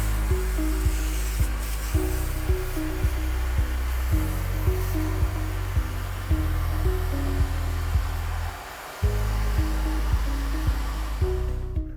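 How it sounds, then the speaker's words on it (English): A vacuum cleaner runs close and loud and steadily, cleaning out the inside and filters of a home heat recovery ventilator, with repeated knocks and clunks as the nozzle bumps the housing and a brief dip near the end. "We're going to vacuum out the inside of the HRV, and I'm also going to vacuum the filters."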